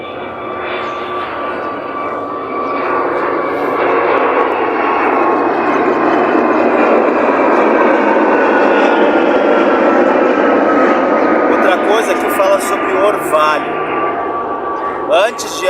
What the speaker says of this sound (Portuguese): Ah, tá passando avião, nós vamos esperar um pouquinho.